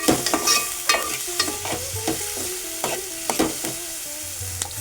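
Onion and potato being sautéed in a pan: a continuous sizzle of frying under repeated scraping, clattering stirs that come in an uneven rhythm, close and moderately loud, with no talking.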